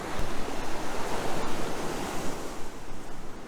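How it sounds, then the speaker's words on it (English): Ocean surf rolls onto a beach where fish are being caught, a steady, loud wash of breaking waves with wind rumble and no talking. "we got a little bit of waves, and the first trough is pretty deep right here"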